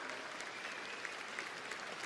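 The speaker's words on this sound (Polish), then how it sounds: "należą mu się wielkie brawa." Sustained applause fills a hall at a Konfederacja party program convention in Poland, a dense, steady wash of clapping from a large crowd lasting throughout without speech.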